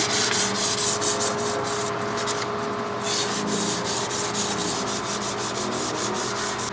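Sandpaper is rubbed by hand against a BMW E46 M3 wheel rim in quick, steady back-and-forth strokes. The rasping is close and continuous, with a faint fan hum underneath.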